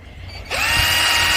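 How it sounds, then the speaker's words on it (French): A power drill spins up to speed and bores into a sailboat mast, whining loud and close after a brief quiet start. "Toujours un peu stressant de percer le mât"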